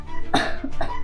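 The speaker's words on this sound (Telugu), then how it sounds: "ఒకసారి దగ్గు" A woman coughs once in a tense domestic drama scene, a single harsh burst followed by a softer second hack, close and fairly loud.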